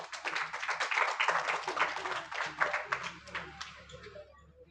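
An audience at a school and coaching award ceremony claps for a top-ranked student, a lively burst of hand claps that swells, then thins and fades toward the end, with some voices mixed in.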